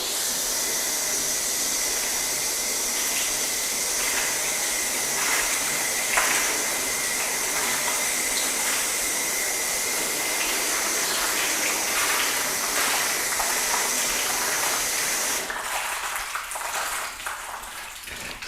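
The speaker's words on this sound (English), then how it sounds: "I'm gonna grab the hose and I'm just gonna rinse these down" A garden hose sprays a steady stream of water over car panels treated with Gyeon Can Coat, Meguiars Hybrid Coating and Carpro coatings, making a continuous loud hiss and splash that cuts off near the end.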